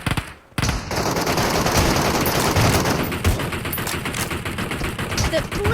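Rapid automatic gunfire from the mobile battle-royale shooter PUBG Mobile, a dense sustained burst of shots running almost continuously after a brief pause at the start, loud and close with faint voice traces mixed in.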